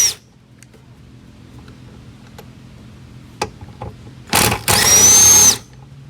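Power tool on the wiper transmission of an Infiniti G35 / Nissan Z removing bolts: two loud bursts late on, a short one then a sustained run of about a second, after faint clicks and handling noises.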